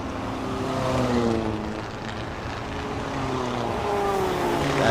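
Race cars at a Thailand Super Series circuit race past the grandstand, engines droning and rising in overlapping harmonic tones, moderately distant under a constant wash of track noise.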